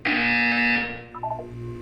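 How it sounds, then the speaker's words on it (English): A loud electronic buzzer from the Portal game blares steadily for almost a second, then cuts off into a few short tonal beeps over a low hum. "You will hear a buzzer."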